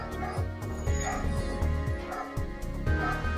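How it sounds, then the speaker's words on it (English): A dog barks in short yips and whimpers in the background of a spaceship strategy game, repeating every half second or so beneath steady game music and talk. "oh, there's my dog barking."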